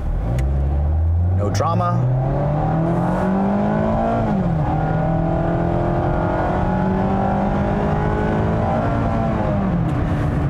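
A 2020 Mazda MX-5 Miata RF automatic in sport mode revs hard and climbs steadily in pitch as it accelerates, loud and close, with someone briefly speaking over it.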